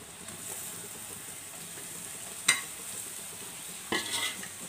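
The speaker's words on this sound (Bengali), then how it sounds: "এবার এর মধ্যে টুকরো করা ঝিঙেগুলো দিয়ে দিচ্ছি" Ridge gourd pieces go into a pan of lightly browned onions, giving a steady low sizzle with two sharp clinks or stirring scrapes near the middle and end.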